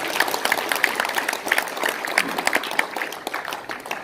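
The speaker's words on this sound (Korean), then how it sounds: "박수 화끈하게 쳐주세요" An audience at a commemorative panel discussion in a press center applauds, a lively burst of clapping with distinct sharp claps standing out, sustained and close.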